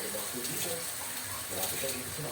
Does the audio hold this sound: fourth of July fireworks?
no